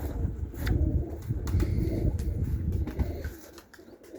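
Turkish Takla tumbler pigeons coo softly at close range, with a few brief wing flaps and rustles against a low outdoor rumble.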